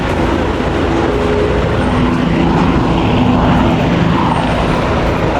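A tour helicopter taking off in New York gives a loud, steady rotor and engine roar that holds constant throughout, with no voices over it.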